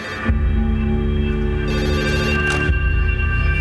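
A telephone rings in a chemical plant control room, a steady electronic tone over a low industrial hum, with a brief clatter partway through.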